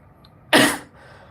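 One sudden, sharp cough bursts out close and loud, then quiet returns.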